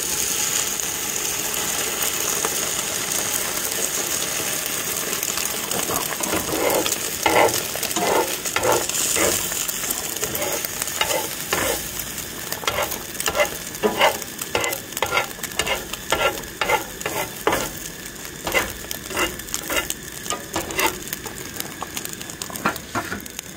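Shaggy parasol mushrooms fry in a pan with egg, salt and pepper, giving a steady sizzle broken by clusters of clicking stirs and scrapes from about seven seconds on, close and moderately loud with no talking.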